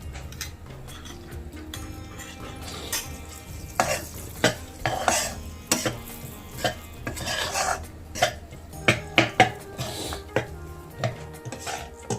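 A spoon stirs wheat flour in ghee in a pan for Prasadacha sheera, giving repeated scraping and clinking strokes in an uneven rhythm, close and fairly loud, with no talking.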